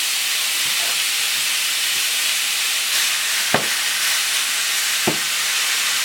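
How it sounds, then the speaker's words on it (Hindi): Baked chicken fajita hits a very hot sizzler platter, producing a loud, continuous steamy hiss that fills the clip, with a few soft clacks as the food is set down. "सिजलर का प्लेटर बहुत गर्म है, इस पर आप इसको यूँ सर्व करते हैं।"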